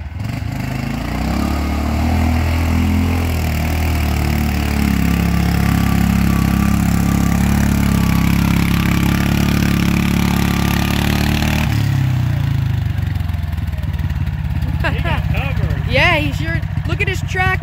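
A tractor engine idles steadily at an Ohio mud bog, a loud low rumble throughout with people talking over it.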